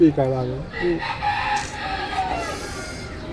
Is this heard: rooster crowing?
yes